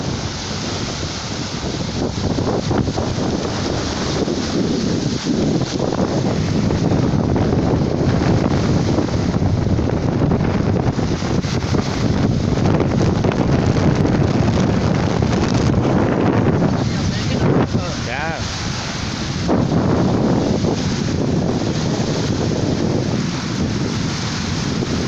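Strong wind at sea buffets the microphone on a fishing boat during a carp-fishing trip, a loud continuous rush mixed with waves and water against the hull for the whole stretch, without any clear talk.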